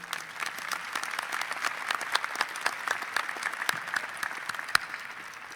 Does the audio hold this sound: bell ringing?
no